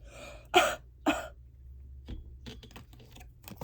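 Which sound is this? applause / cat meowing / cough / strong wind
cough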